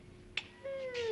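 A kitten gives a short chirp, then a longer rising-and-falling meow, close and clear against a quiet room.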